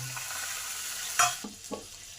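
Water poured into a pan of masala that has been fried until the oil separates, for a pea-pod peel and egg curry; a steady frying hiss, then a sharp burst of sizzle followed by a couple of softer stirring scrapes.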